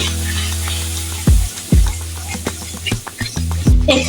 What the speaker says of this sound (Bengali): আদা রসুন বাটারটা দিয়ে দিচ্ছি আমি শুকনো মশলার গুঁড়ো গুলো এখন আমি নেড়ে দেব